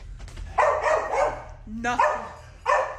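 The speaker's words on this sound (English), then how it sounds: "Dogs barking and everything." Several dogs bark in short bursts, fairly close and loud, with a yelping, whining call in between, in a house where people are talking quietly in the background.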